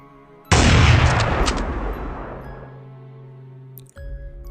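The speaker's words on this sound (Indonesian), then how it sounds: "sayup-sayup kami mendengar seperti ada suara tembakan" A single sharp gunshot cracks out and rolls away in a long, fading echo across open ground, followed by quiet.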